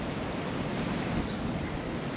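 Strong wind over 20 knots buffeting a sailing boat at anchor in rough conditions, with waves churning around the hull: a steady, loud roar of rushing wind and water, unbroken and close to the microphone.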